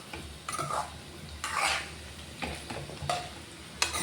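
Drumsticks being stirred in a frying pan: repeated scraping and clinking strokes of a spoon against the pan come in short bursts over a faint, steady sizzle, fairly close with no talk.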